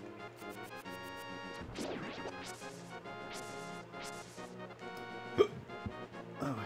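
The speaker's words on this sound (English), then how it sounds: "hiccups." A cartoonish hiccup effect from the Zelda game A Link to the Past, heard once amid busy chiptune-style game music and other bright effect sounds, with no talking.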